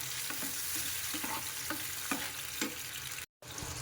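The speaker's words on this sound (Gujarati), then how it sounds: "પછી આ ટમેટો આ 2 ક્રશ કર્યા છે એ એડ કરી દેવાના છે અને આપણે મિક્સ કરવાનું છે" Two crushed tomatoes sizzle steadily in a hot pan for pav bhaji while a spoon stirs in regular scraping strokes; the sound briefly cuts out near the end.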